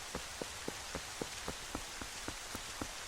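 Game rain at Hyrule Castle in Twilight Princess falls as a steady hiss, with soft regular ticking drops spaced evenly throughout.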